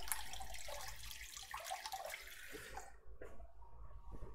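Running water pours from a tap while a strawberry is rinsed in a kitchen during a pastry lesson. A steady close splash cuts off near the end and leaves a few small clatters.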